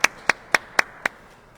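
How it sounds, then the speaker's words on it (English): Five sharp, evenly spaced claps ring out, close and fairly loud, then stop, with no voices over them. They come at a public event honoring a Revenue Committee during a tax-reform talk. "let's start by giving the Revenue Committee a big round of applause"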